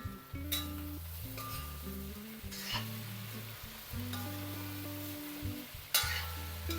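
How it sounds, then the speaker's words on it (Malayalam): Okra thoran frying in a pan with crushed chilli and being stirred: a utensil scrapes and clinks against the pan in repeated strokes about every second over a steady soft sizzle, close and fairly quiet with no talking. "ഒന്ന് ഇളക്കട്ടെ."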